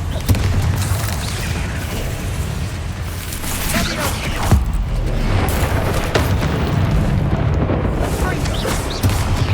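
Booming Confringo spell explosions in Hogwarts Legacy, heavy rumbling blasts layered over dense combat noise and scattered impacts, loud and continuous throughout.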